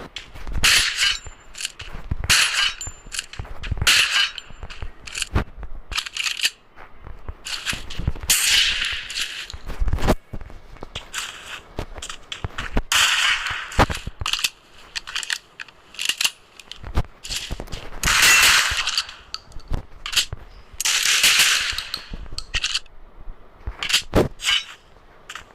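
Katana swings in the video game Free Fire: a rapid series of sharp, whooshing slashes and clinking hits, loud and close, coming in irregular bursts for the whole stretch.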